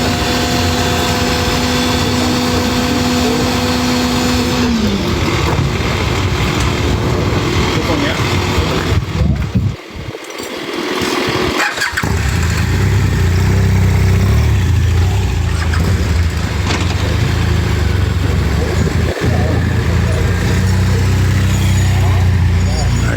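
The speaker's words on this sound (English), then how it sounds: "he's moving his tow truck over to get a better bite at it" A heavy tow truck engine rumbling and idling nearby at a crash scene in California, shifting in pitch as it moves, with people talking over it outdoors.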